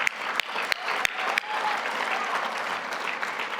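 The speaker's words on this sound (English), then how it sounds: "So yeah, one more round of applause." Sustained applause from an audience at a business hall of fame awards ceremony honoring laureates, a dense steady clapping crowd with a few sharp louder claps near the start, continuing evenly throughout.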